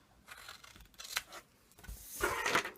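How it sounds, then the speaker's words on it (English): Scissors snip through card while a gift box for a desktop calendar and organiser is being trimmed, a few separate crisp cuts followed by a longer rustling slice, close and quiet with no speech. "So I just need to get a bigger pair of scissors, because now I want to cut off"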